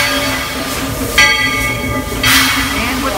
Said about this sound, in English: our train is still in motion